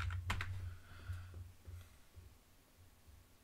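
A password is typed on a computer keyboard, a quick cluster of close, crisp keystrokes at the start that trails off into near silence.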